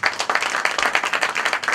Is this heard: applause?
yes